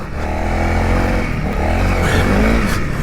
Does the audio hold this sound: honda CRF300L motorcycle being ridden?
yes